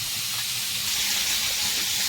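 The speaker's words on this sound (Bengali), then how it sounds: "এই মাছ ভাজা কমপ্লিট।" Catla fish pieces fry in hot oil, giving a loud, continuous sizzling hiss that holds steady from start to finish with no voices.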